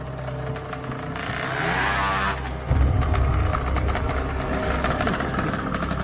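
A scooter engine sounds outside a house, a motor hum that swells and revs up, dips briefly, then returns with a louder rumble and holds steady at close range.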